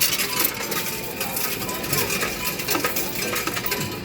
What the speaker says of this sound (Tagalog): excited na silang ihulog lahat yung mga barya nila dito sa Coin Sister